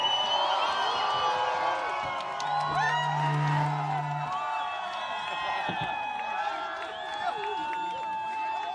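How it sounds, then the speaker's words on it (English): Crowd cheering and clapping at the awards ceremony of the big wave surfing challenge in Nazaré, outdoors, a steady wash of applause and whoops under a continuous background with some tonal sounds mixed in. "A huge round of applause."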